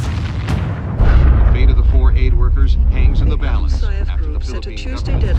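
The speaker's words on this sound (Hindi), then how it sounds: "सो फर्स्ट गेम हमारे पास medal of honour war fighter है।" Heavy gunfire and booming explosions from the military shooter game Medal of Honor Warfighter, loud and continuous with dense low rumble throughout, as game voices call out over the battle.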